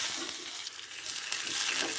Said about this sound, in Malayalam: എണ്ണ ഒഴിച്ചിട്ട് കുറച്ച് ചെറിയ ഉള്ളിയും കൂടെ